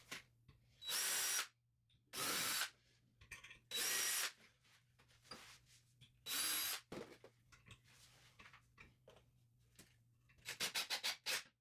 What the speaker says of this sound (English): Flip it over on the underside of the bench top, pre-drill carefully and screw it.